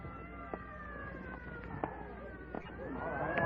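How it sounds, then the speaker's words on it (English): An ambulance siren from a radio drama wails in steady rising and falling tones at moderate distance, with a few sharp knocks and a growing swell of noise toward the end. "Clear the way for the ambulance."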